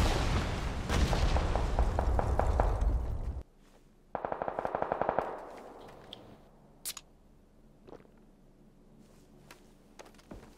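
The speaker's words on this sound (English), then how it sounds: "now I'm taking rounds from multiple shots" Automatic gunfire in PUBG, first a long loud burst of rapid shots, then a second sharp rattling volley striking close to the player, followed by scattered single shots and quieter pauses.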